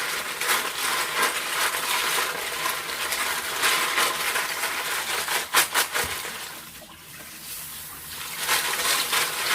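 Cockles being washed in water, sloshing and splashing with shells clattering and scraping against each other, steady and close, easing briefly before picking up again.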